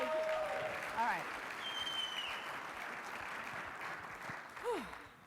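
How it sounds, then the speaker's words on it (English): Audience applause in a business-school session at a natural products expo, a moderate spread of clapping from a crowd that slowly thins, with a few voices speaking over it. "Everybody clap for Lynn"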